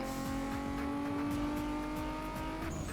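Engine of a Lexus IS300 in Need for Speed Most Wanted (2005) drones steadily and loud throughout, holding a strong sustained tone with racing-game engine roar and faint tire noise, no talking.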